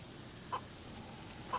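Two short, faint chicken clucks about a second apart from a farmyard chicken in the survival game DayZ, over a quiet steady background.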